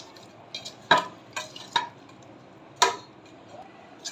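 Hilsa fish pieces are mixed by hand with salt, chilli, turmeric and mustard oil in a bowl, giving soft, close squelches and several sharp taps against the dish with quiet pauses between them.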